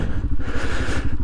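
A 40 horsepower Royal Enfield Himalayan 462cc motorcycle riding over sand, its engine thrumming in a close, loud, pulsing drone with a brief rise near the end.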